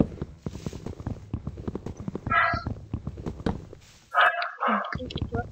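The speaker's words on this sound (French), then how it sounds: "c'est mon chien qui aboie" A dog barks a few sharp times in the background, loud in bursts over steady clopping, rhythmic gameplay sounds.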